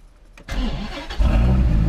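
A Dodge Viper with a no-crank, no-start fault fires up after a short quiet, its engine catching with a loud burst and settling into a strong, steady rumble close by.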